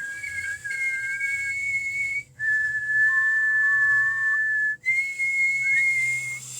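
Whistling done on the in-breath, three long steady high notes separated by brief gaps, with a lower note sounding briefly in the middle; close and clear, no talking.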